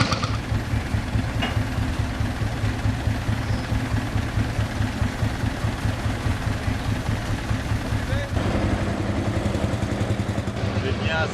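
Vintage tractors on a rally through the village of Brajlov, their old engines chugging in a steady, close, rhythmic knock that carries on throughout, with a brief shift in tone near the end.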